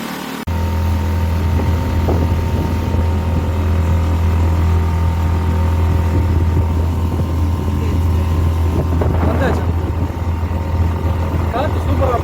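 A motorboat cruises under a bridge on the Poovar backwater, its engine a steady, loud, low drone throughout while people talk over it.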